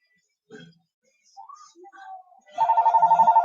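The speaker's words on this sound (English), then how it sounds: "Oh, we got a phone call." A telephone rings with an incoming call, sounding a steady pulsing electronic trill near the end, after brief quiet indoor sounds.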